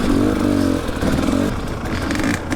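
Dirt bike engine fitted with a traction disc clutch weight revving hard and steady on a green-loop enduro trail, loud and close throughout with a slight dip in pitch midway.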